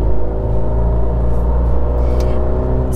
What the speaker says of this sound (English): I think my problem with it is the noise of the engine.